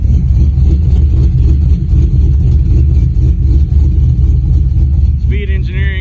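Cammed 5.3-liter V8 in a 2005 Chevy Silverado single cab 2WD, fitted with long-tube headers and a full exhaust with dual-in, dual-out mufflers, rumbling loud and close in a steady, deep drone with a brief higher tone near the end.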